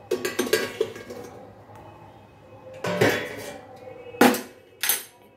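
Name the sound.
removing the lid from a cooking pot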